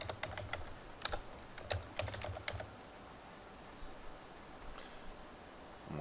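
Quick bursts of typing on a computer keyboard, close and fairly faint, a flurry of keystrokes in the first half, then near quiet with a few stray taps, no talk.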